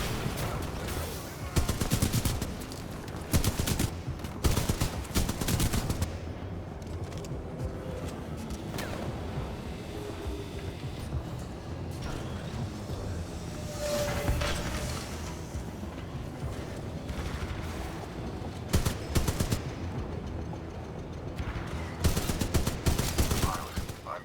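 Sentry turret gunfire in the video game Titanfall 2, with bursts of rapid automatic shots that come and go over a steady ambient rumble, and occasional talk.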